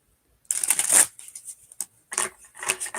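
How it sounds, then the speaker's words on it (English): Tarot cards being shuffled on top of other cards, two quick riffling bursts of papery flapping close to the microphone with a brief pause between, no talk. "I'm like shuffling on top of cards, so I'm trying not to like disturb them"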